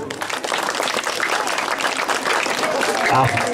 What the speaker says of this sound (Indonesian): tepuk tangan untuk kapal